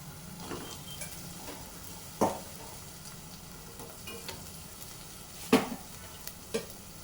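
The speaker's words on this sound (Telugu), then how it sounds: "కొంచెం ఆనియన్స్ కలర్ చేంజ్ అయ్యాక మనం ముందుగా కట్ చేసి పెట్టుకున్న బోడకాకాయని ఇందులో వేసుకోవాలి" Cut spiny gourd frying with onions in a pan for a rustic village-style curry: a low, steady sizzle broken by a few sharp spoon-against-pan clacks and scrapes as it is stirred, near and without speech.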